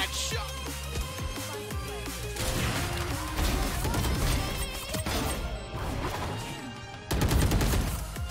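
Gunfire from a Valorant match, with a dense run of sharp shots, crashes and impacts that build loudly over several seconds, ending in a sudden strong burst.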